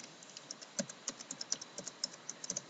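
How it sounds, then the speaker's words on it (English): Rapid, even keystrokes on a computer keyboard while a word is entered into a spreadsheet, a steady run of light clicks with a few sharper taps, close and fairly quiet, with no talking. "So I'll type symmetrical in"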